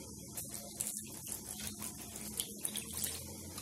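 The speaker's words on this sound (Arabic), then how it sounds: "نديرو شويه الماء" Water pours in small splashing bursts into a cooking pot during a chicken dish preparation, close and fairly quiet, with uneven trickling and gurgling that lasts a few seconds.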